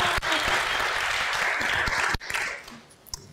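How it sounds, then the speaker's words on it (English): An audience at a leadership conference panel applauds, a sustained burst of many hands clapping that cuts off abruptly, leaving a few scattered claps and faint room noise. "Applaud us. Applaud us."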